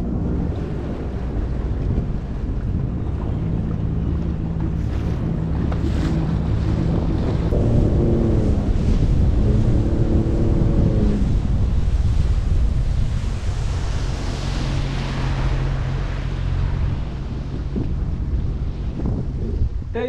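A large rented water motorcycle runs over waves, with a loud, continuous rush of wind and water, engine drone rising and falling, and heavy buffeting throughout.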